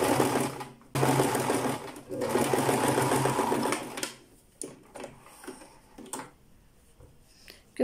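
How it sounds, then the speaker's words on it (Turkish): A sewing machine runs a straight stitch in two bursts of rapid, even whirring clatter, then falls to scattered clicks and handling noises, with a voice speaking nearby. "Gördüğünüz gibi arkadaşlar düz bir dikiş dikebildim"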